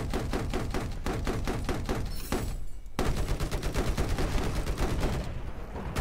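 Rapid automatic gunfire in Battlefield 4, loud and steady, broken by a heavy RPG rocket impact with a brief muffled lull before the shooting resumes.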